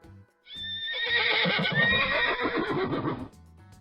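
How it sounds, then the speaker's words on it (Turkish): A horse whinnies loudly and close by, a shrill, wavering neigh lasting about three seconds that tails off into lower snorts. "Atlar işte bu şekilde ses çıkarır."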